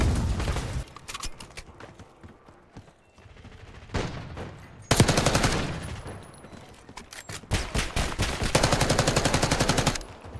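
Video game gunfire from Black Ops 6 rattles in loud automatic bursts, some short and some sustained, with brief quieter gaps and no clear talk over it.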